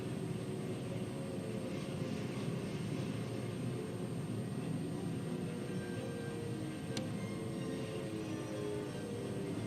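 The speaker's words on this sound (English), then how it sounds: "The Japanese planes, flying through fighter screens and anti-aircraft fire, were able to deal a mortal blow to America's most storied carrier." Aircraft engines drone in a continuous, fairly faint roar, fitting WWII Japanese planes attacking an aircraft carrier, with one sharp transient near the end and no speech.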